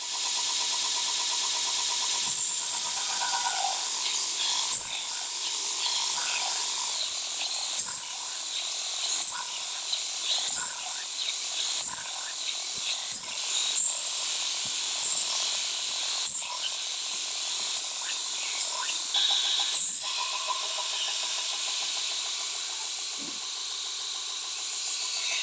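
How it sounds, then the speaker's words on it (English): A belt sander grinding bevels on a knife blade, a continuous loud hissing grind with repeated short scrapes as the steel is pressed and lifted, steady throughout with no talking. "I'm going to head over back to the sander, and I'm going to finish these bevels"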